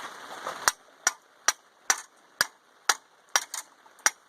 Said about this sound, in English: At one time, I drove it in with the hammer, like so.